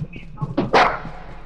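A dog in the video game Lethal Company gives a couple of sharp barks, loud and close, with a brief whimpering yip before them, alone in the short moment.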